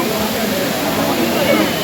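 A waterfall at Courtallam roars nearby, a steady dense rush of falling water that fills the whole short stretch with no break.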